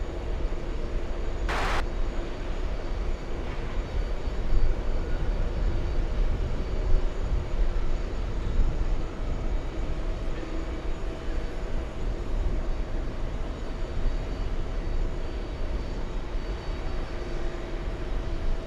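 Airliner engines roar steadily at Kennedy airport in New York as a flight to Manchester gets moving for departure, a continuous broad rumble holding at moderate level with no talk.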